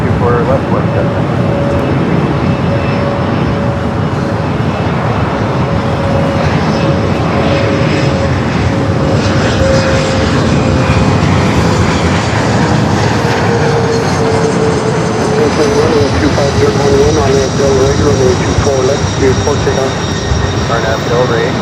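Aircraft engines at LAX as an airliner lines up on runway 24 left, a steady loud roar with a tonal whine running under radio tower chatter throughout.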